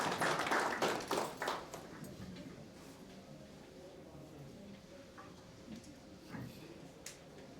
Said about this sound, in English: Please give him a round of applause as he makes his way.